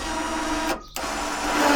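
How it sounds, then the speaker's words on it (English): An electric winch fitted to an offroad Nissan Micra whirs close by with a steady mechanical drone that stops briefly and then starts up again. "we now have a working winch"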